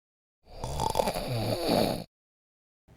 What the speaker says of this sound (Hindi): ये तो खर्राटों की आवाज़ है।